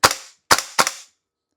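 Three sharp shots from a WellPro AK12 airsoft rifle, close and loud, the first alone and the last two in quicker succession, each with a short decay, then silence.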